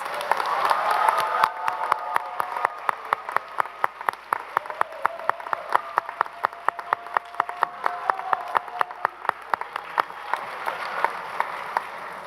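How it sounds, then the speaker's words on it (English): An audience at an electrical and computer engineering master's hooding ceremony claps for the graduates. A full round of applause swells early, then settles into a thinner run of individual claps that keeps going throughout. "How about one more round of applause for all of our graduates?"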